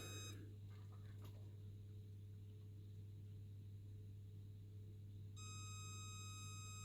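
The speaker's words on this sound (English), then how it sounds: "So a quick check with a multimeter." A multimeter continuity beep sounds while testing a normally closed limit switch for the Y axis of a Robox 3D printer. A brief tone comes at the start, then a sustained, steady beep from about five seconds to the end, over a low electrical hum.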